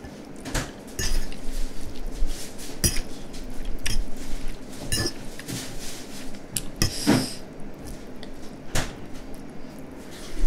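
Cutlery clinks and scrapes against a plate while homemade pasta in tomato sauce is eaten, with scattered sharp metallic taps and soft chewing sounds between them.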